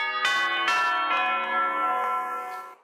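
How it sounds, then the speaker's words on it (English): Neighbouring church bells chime the quarter hour as a radio play effect, with several clear, ringing strikes in succession whose long resonant tones overlap and slowly fade, heard alone without speech. "the chimes of a neighboring church struck the 4"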